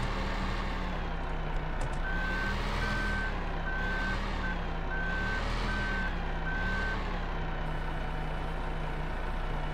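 Farm truck backing up to a corn planter, its reversing alarm beeping in a steady, evenly spaced series over a loud, constant engine drone.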